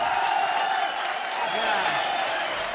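Dense crowd applause and cheering greeting a norteño musician on stage, a continuous loud roar of clapping and voices.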